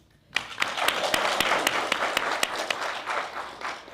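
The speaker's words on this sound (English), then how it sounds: "Give her a round of applause" Audience applause at a teacher excellence award ceremony, starting abruptly and holding as a dense, steady wash of many hands, with a few sharper claps standing out, fairly close.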